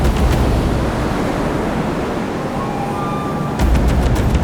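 Heavy ocean surf pounds around a rigid inflatable boat near a beach, a loud continuous rush of wind and breaking water that swells again toward the end.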